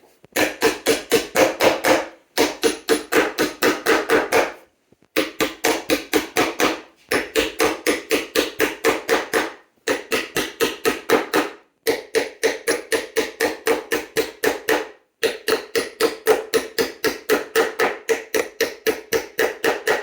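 Steady, rapid hammer blows nailing a strainer plate into a saddle ring out in quick bursts, each volley of a dozen or so strikes separated by short pauses, loud and close.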